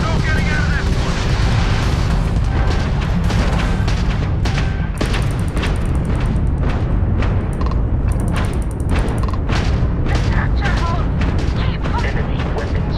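Heavy explosion from a direct hit on a spaceship's grav drive during Starfield combat, a loud sustained rumbling roar with sharp bursts layered over continuous low-frequency noise throughout.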